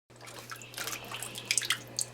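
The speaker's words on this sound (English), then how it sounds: "I got the sink filled with water, and I'm just washing the peanuts up" Peanuts being washed by hand in a sink filled with water, with soft splashes and drips that come and go, close by and fairly quiet, over a steady low hum.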